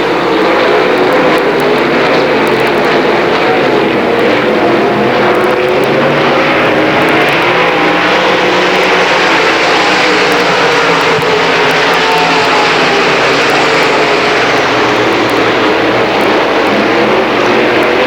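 Late model race cars race side by side at Pikes Peak area PPMS speedway, making a loud, continuous engine roar that swells and fades as the pack passes, with no voices.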